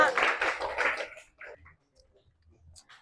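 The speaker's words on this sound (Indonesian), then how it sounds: "Tepuk tangan buat kelompok 5." A vocational high school class claps for a student group in a classroom: a short, lively burst of many hands for about a second, then it quickly dies away to scattered faint sounds.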